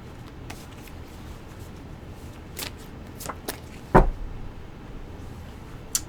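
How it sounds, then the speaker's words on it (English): Faint riffling and soft card snaps spread over several seconds, with one sharper tap near the middle, in a quiet room. "Gonna do one little shuffle for our bottom of the deck"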